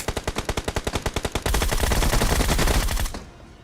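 Rapid automatic gunfire from a Groza rifle in the BGMI mobile battle royale game, a steady burst of evenly spaced shots followed by a denser, louder stretch of fire that cuts off abruptly, with no talking.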